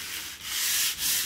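Steady, gritty sanding with a broad hiss, rubbed back and forth in two long strokes with a brief dip between them.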